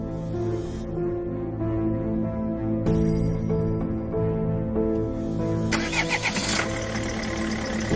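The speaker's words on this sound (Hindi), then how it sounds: "गुल्ली बुल्ली गाड़ी में बैठकर शॉन के घर की तरफ निकल जाती हैं।" A cartoon car's engine cranks and catches, idles with a steady hum, then revs up and pulls away, loud and close with no talking.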